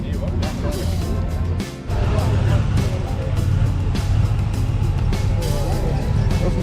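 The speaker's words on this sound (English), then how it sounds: "This is Lexus LC500 leaving now." A Lexus LC500 pulls away at a Friday night rodders' car meet, its engine a steady, loud low rumble throughout, dipping briefly before surging back, with crowd chatter around it.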